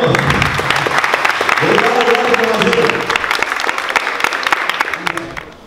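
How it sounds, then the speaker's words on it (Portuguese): Guests at a 15th birthday party clapping loudly and continuously, a dense burst of applause from a nearby crowd with voices mixed in, tapering off toward the end. "Palmas, palmas."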